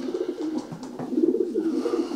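A male racing pigeon coos in repeated low, throaty rolling phrases, close and steady, with a few soft rustles and no talking.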